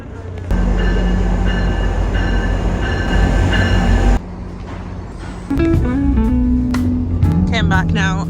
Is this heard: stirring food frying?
no